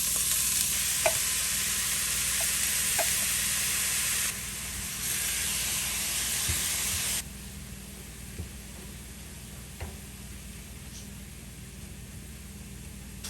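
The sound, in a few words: vegetables frying in olive oil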